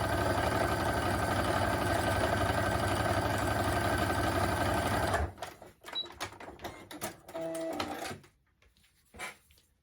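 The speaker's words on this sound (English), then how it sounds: "when it sews this time, it will do each stitch 3 times, so you'll see it going forward and back" A sewing machine runs steadily, stitching a triple stretch stitch on fabric with a fast even mechanical whir for about five seconds. It then stops, leaving a few short clicks and small handling sounds.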